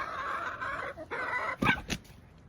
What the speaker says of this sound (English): She weighs a whole 11 pounds, but she is a Cornish cross, and her daughter is Jolene